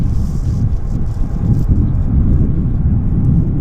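A JAL airliner in old-school livery on the wet runway at Vancouver airport gives off a loud, steady jet rumble that holds at an even level from start to finish.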